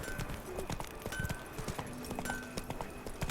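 Roach the horse gallops in The Witcher 3 with a steady clip-clop of hooves, rhythmic and close, over faint game ambience.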